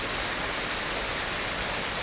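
A dense, unbroken roar of heavy rain falls near a house, a steady close-up wash of water hitting surfaces for the full moment, with no talk over it.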